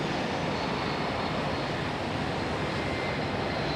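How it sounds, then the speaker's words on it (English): A Boeing C-17 military transport jet departing Raleigh-Durham International Airport at night, a loud, continuous, dense engine roar with no breaks, filling the whole stretch with no talking over it. "Yep, there goes our C-17."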